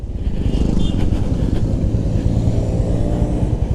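A Honda CB350RS single-cylinder motorcycle riding under power through the gears, its engine thumping loudly and steadily close up with a continuous low rumble and wind noise.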